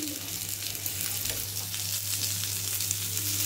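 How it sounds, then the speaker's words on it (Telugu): Onions frying in oil in a pan produce a steady close hiss and sizzle with light crackling over a low hum, briefly and without talk. "వేగిందండి ఉల్లిపాయలు"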